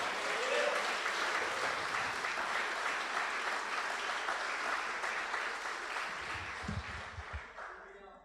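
A church congregation claps together in sustained, even applause during a sermon, the dense clatter slowly thinning and fading toward the end as a few low thumps and a voice emerge.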